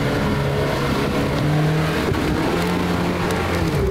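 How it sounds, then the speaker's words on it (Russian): An off-road trophy-raid vehicle roars continuously and loudly during a 4x4 club race through water and mud in Kirzhach district, its engine straining and revving with no pause. "Вода, грязь и рев мотора – это гонка по преодолению бездорожья."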